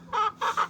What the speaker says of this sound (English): the chickens are just going crazy